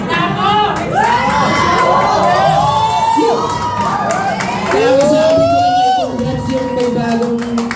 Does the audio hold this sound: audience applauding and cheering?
yes